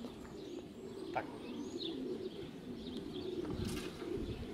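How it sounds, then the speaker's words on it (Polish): Soft, low cooing of racing pigeons arriving at a loft rolls on steadily outdoors, with a few faint chirps scattered over a constant background hum. "Czyli 23 gołębie są razem."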